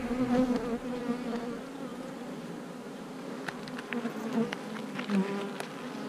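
Honey bees buzz steadily inside a nuc hive during brood frame work, a dense close hum with a few sharper passes of individual bees flying near, continuous throughout.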